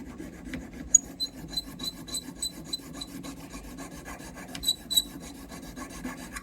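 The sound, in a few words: filing with an auger bit file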